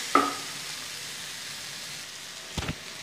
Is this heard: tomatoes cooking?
yes